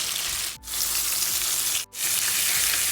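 Tandoori-marinated fish frying in a little oil over medium heat, a loud steady close sizzle broken by two brief dips, with no talking.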